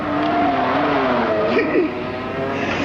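A car drives past, its engine note holding as a loud, steady drone, then bending in pitch as it goes by before settling again.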